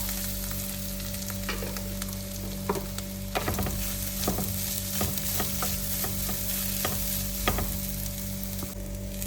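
Urad dal and grated coconut roast in a pan for a Kerala sadya kootu curry, with a soft continuous sizzle and irregular scraping clicks from stirring over a steady low hum.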